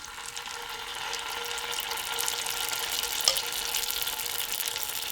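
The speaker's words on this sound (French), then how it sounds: "Et je vais simplement continuer à frire de petites boules comme ceci." Small balls of vegan zeppole dough fry in hot oil, giving a steady, close sizzle and bubbling hiss that holds evenly throughout with no talk.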